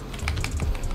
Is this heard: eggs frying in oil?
no